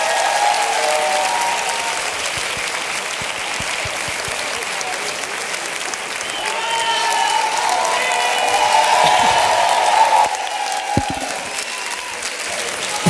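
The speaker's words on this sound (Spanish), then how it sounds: "Fuerte aplauso para Carlitos." A studio audience on a talk show discussing reggaeton claps and cheers for an introduced guest, a sustained crowd roar with whoops that swells in the middle before tapering, with some voices mixed in.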